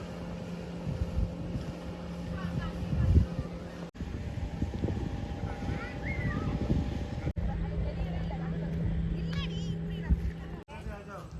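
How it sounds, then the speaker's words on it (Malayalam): A speedboat runs on the Ponmudi dam reservoir, its engine a distant, steady drone beneath close-up talking and gusts of wind across the microphone. "speed boat"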